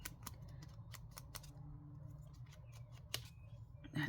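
Scissors snip through card for a crafting project in a series of short, crisp cuts spaced irregularly, fairly close and quiet over a soft low background hum.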